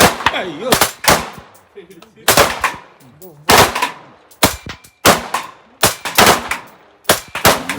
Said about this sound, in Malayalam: അടുത്തയാളും വെടിവെപ്പ് തുടങ്ങി.